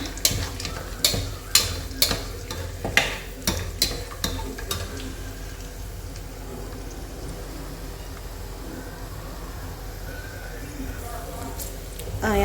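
Cardamom, cloves, star anise and kasuri methi fry for biryani in a low sizzle, opening with a run of sharp, evenly spaced clacks of a utensil against the pan before settling into steady crackling.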